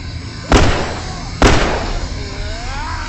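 A thrown bomb explodes twice in The Last of Us, two loud sharp blasts about a second apart over a steady background of game ambience, with no talk.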